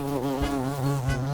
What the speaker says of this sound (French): notre championne de la catégorie des poids lourds, le xylocope